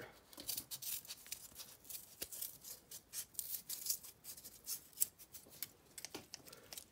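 Scissors snip steadily through paper while cutting out a circle, giving fine, rapid crisp clicks and rustles at close range with no talking.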